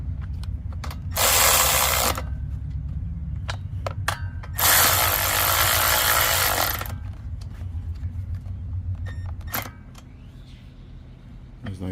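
Power ratchet or impact tool tightening bolts on a Honda GCV190 small engine during reassembly, two sustained loud whirring bursts up close, separated by sharp clicks and clanks of tools against metal.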